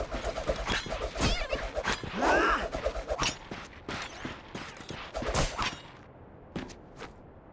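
Combustor weapon fire from Ratchet & Clank: Rift Apart, a string of sharp blasts and impacts over a busy game soundscape, one longer burst midway, with no talk.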